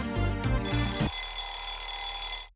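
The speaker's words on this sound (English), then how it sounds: "Yep, and there's the ringing." A bright electronic ringing from the Lemmings Cranium challenge levels sounds over the game's tonal music for about two and a half seconds, then cuts off sharply.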